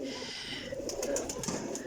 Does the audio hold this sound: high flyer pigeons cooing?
yes